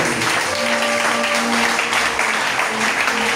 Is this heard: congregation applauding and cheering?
yes